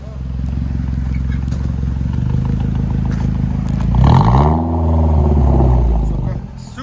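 A 2000 Mercedes SLK 230 supercharged AMG with dual straight-pipe exhaust idles loudly, then revs hard in a couple of rising and falling pulls, close and raw, with people talking over it.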